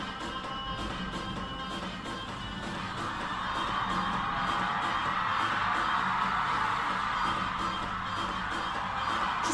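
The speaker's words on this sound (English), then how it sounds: "Listen to the screams of the crowd." A large talent show audience roars with sustained screaming, whooping and cheering during a salsa dance act, a loud, continuous wall of crowd noise that grows slightly louder toward the end.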